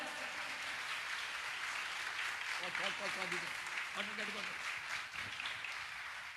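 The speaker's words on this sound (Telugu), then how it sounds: "కొట్టండి చప్పట్లు గట్టిగా అందరూ కూడా కొట్టండి." Church congregation clapping together in steady rhythm, a continuous wash of many hands heard fairly quietly, with a voice singing or calling out over it midway.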